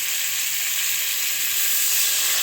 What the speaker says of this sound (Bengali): এবার আমি এর মধ্যে আলুটা দিয়ে দেবো ভালো করে আবার একটু জল দিয়ে কষাতে হবে